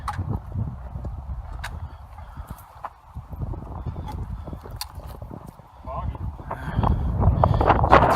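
Gusty wind rumbles against the microphone outdoors at Cape Chignecto, steady with stronger bursts toward the end, while people talk nearby.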